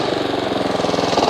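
A Honda HRX217 lawn mower engine runs steadily up close, a loud, even, rapid chugging drone with no voices.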